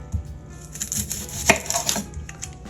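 A santoku knife chops through a yellow onion on a board, several close, crisp cuts with one sharp thunk midway, alone without talk.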